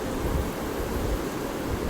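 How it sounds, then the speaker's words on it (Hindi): Rain coming in through a balcony, a dense steady roar of rainfall with a low rumble underneath, close and continuous with no voices. "ये खिड़की बंद कर दो, बारिश अंदर आ रही है क्या?"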